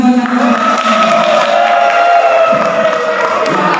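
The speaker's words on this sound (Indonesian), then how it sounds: "ya tepuk tangan buat aku." An audience at an Indonesian teacher training session cheers and whoops loudly, a continuous crowd roar of mixed voices filling the whole few seconds.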